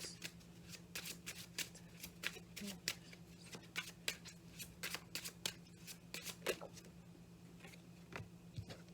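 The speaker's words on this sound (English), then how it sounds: "Just get 3 cards from this deck." Tarot cards shuffled and drawn from a deck during a card reading: a quiet run of quick papery flicks and riffles, close but faint over a low steady hum, with no talking.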